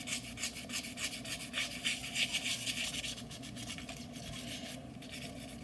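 Continuous close sanding of a resin coaster surface, a gritty rubbing rasp in steady back-and-forth strokes, louder at first then settling into a softer, even scrape.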